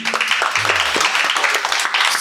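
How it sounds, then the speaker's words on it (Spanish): Dense, bright clapping from a crowd, continuous and lively with no pauses. "Es un aplauso, Antonio"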